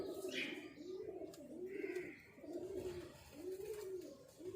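Saaf Bagga pigeons, a male and female pair in a cage, coo in steady repeated low rolling phrases at close range, with a few faint chirps above.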